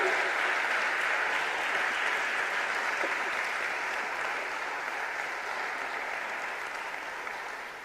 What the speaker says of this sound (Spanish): Un aplauso a esta palabra